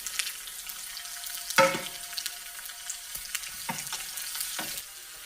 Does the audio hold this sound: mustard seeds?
yes